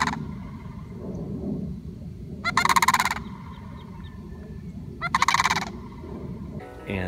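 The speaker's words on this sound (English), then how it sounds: "the sandhill cranes, and they're these big majestic birds. They're actually endangered species and they make this really unique call" Sandhill cranes calling outdoors at misty sunrise: two loud, rattling bugled bursts a few seconds apart, heard over a low steady background rumble.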